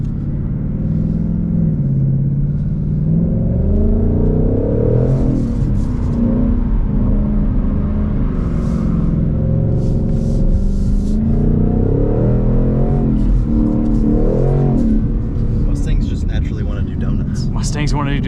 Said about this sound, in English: Mustangs want to do donuts.